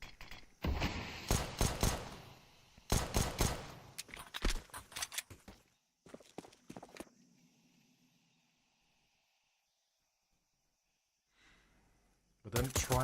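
Pistol fire from USP and Glock handguns in a Counter-Strike esports match, heard as rapid close bursts of shots in quick clusters with short pauses, then a near-silent gap before a final burst.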